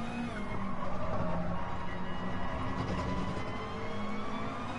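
Porsche race cars in Gran Turismo Sport roar around the track, a loud continuous engine drone with rising and falling pitch and faint tire squeal, the cars running close together.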